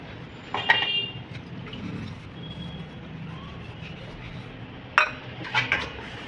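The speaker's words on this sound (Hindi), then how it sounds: "बर्तन को धो देती हूँ।" Dishes, pots and utensils being washed by hand in a home kitchen, with two clusters of sharp clinks and clatters over a steady background of running water and faint traffic noise.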